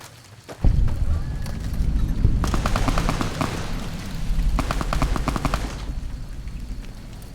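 Gunfire in the video game Fallout: New Vegas, a sharp opening shot followed by two loud bursts of rapid automatic fire in rattling volleys, with no talking.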